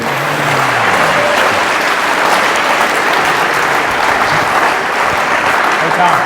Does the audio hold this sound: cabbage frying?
no